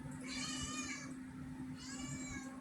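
A pet cat meows in two drawn-out, wavering calls separated by a short pause, close and clear over a steady low electrical hum.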